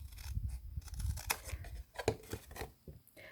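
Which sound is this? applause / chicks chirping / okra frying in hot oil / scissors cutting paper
scissors cutting paper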